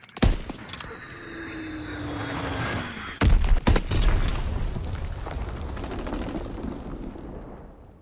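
Enemy bombs burst in a WW2 video game. One sharp blast opens, and a quick pair of heavy booms follows a few seconds later. A steady rumbling din of battle and a faint falling whine run underneath.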